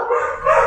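A dog barks at cars passing outside, two quick close barks in under a second, loud and alone.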